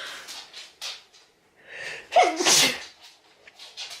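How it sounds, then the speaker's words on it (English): After some soft breathy sounds, one loud, close sneeze bursts out, followed by quieter breaths. "I'm going to sneeze"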